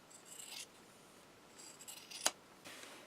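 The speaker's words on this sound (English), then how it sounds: "I'm going to cut along the seam allowance just to lay everything flat." Scissors snip through fabric along a sleeve's seam allowance in a quiet room, giving a few soft, close slicing strokes and one sharp click of the blades closing.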